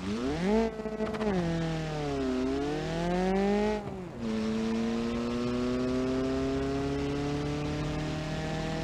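Car engine in BeamNG.drive on a 50-shot nitrous setup, revving through the gears: rising whining pitch, a dip and shift, then a long steady climb in third, loud and close with no talk.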